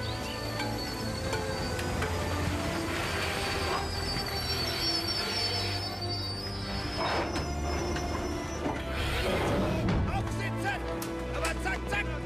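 Train carriage rolling with wheels squealing on rails in wartime East Prussia, a steady rumbling drone throughout with screeching metallic squeals, voices speaking over it.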